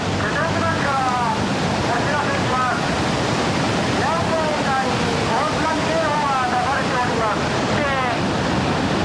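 Torrent of floodwater during the Japan tsunami, a loud, continuous roar and rush of churning water that stays steady throughout, with faint whistling tones riding over it.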